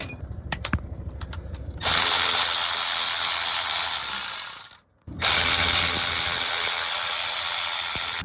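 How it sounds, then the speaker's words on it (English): Hand ratchet clicking steadily as it loosens 12mm slave cylinder bolts on a 1988 Toyota pickup with a 22RE engine, loud and close, in two long runs split by a brief pause, after a few sparse clicks. "Next up, we got the slave cylinder. Just gotta disconnect these 2 12mm bolts."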